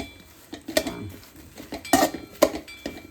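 A spoon scrapes and clinks against a metal cooking pot while protein is mixed in, giving a quiet, irregular series of sharp metallic taps and knocks with soft rustling between them, no voices.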